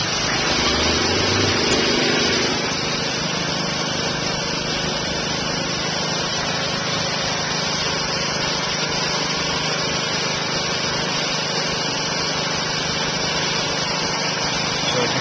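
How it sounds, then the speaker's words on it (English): A grout pump runs loudly and continuously, a dense mechanical drone with a hissing rush as grout inflates a Cintec tie sock inside masonry. "The sock's inflating, getting bigger and bigger."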